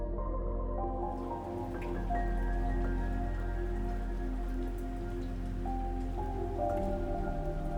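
A morning drizzle falls in a steady, soft patter with scattered drips, close and continuous, over a low sustained tonal hum and no talking.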